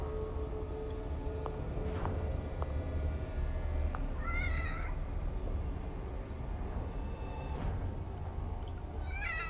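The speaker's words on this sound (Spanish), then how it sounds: "Ah, mira, ya tenemos gatito otra vez." Soft meows from a cat in the horror video game The Evil Within, heard as a few short calls over a steady, low ambient game drone, with faint clicks scattered throughout.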